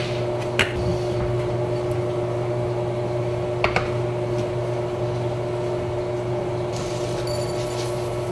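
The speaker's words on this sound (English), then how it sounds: "add water and then pop it in the microwave" A steady low mechanical hum of a running microwave, with a couple of faint clinks and light rattles over the drone.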